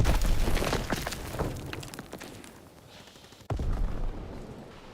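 Gunfire in the WWII shooter Call of Duty: WW2. Loud rapid bursts and reports dominate at first, thin out into quieter background noise, then a sharp blast cuts back in followed by more shooting.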